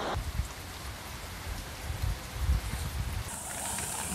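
Heavy rain pours steadily during a severe storm in the Vale do Sinos region of Brazil, a dense continuous hiss with a constant rumble beneath, with no voices.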